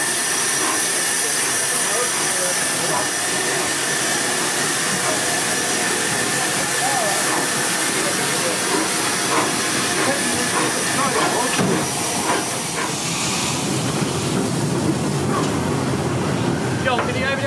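A steady, loud hiss of escaping steam from a steam locomotive on the Swanage Railway fills the whole stretch, with rumbling machinery underneath and a few brief knocks near the end.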